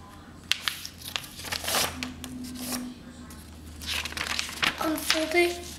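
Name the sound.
folding a sheet of paper to make a paper airplane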